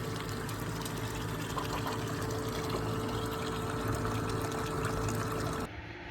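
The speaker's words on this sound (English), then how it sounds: "I got my pan right here in the water" A gold pan is worked in water while cleaning out a sluice mat, giving a steady, close rush and trickle of swirling water that stops abruptly near the end.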